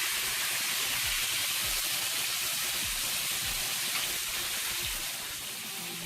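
Garlic cooks in an electric skillet alongside New York strip steaks, giving a steady close hiss and sizzle that continues evenly and eases slightly toward the end.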